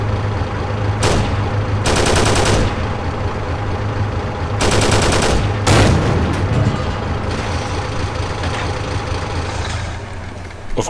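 Tank guns firing in a WWII tank combat video game, including a 45mm cannon, over loud engine rumble: several sharp broadband blasts spaced a few seconds apart, close and loud against a constant droning motor.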